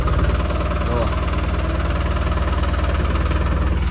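A new tractor's engine runs steadily as it is driven slowly, giving a close, continuous low chugging throb with a faint knocking vibration that holds unchanged from start to end.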